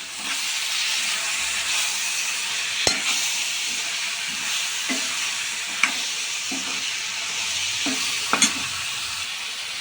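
Tomatoes and red chilli powder stirred in a hot pan for a brinjal and chickpea curry, a continuous sizzle and hiss with a few sharp spoon knocks against the pan and soft scraping, close and steady throughout.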